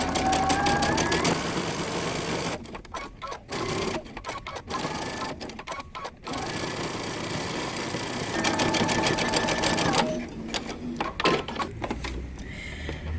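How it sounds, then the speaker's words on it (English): A sewing machine runs in fast rhythmic bursts, stitching all the way around fabric tabs for a moto jacket, close and loud with brief pauses between runs. "we're going to sew all the way around for both tabs"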